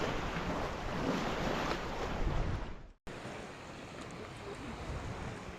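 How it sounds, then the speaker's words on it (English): Waves washing on the Dead Sea shore in Jordan, a steady close hiss of water mixed with gusty wind rumble on the microphone, briefly cut off once before resuming. "So we made it to the Dead Sea."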